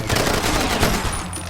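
Dense, loud game gunfire from Far Cry 2, a rapid burst of overlapping shots filling the short moment.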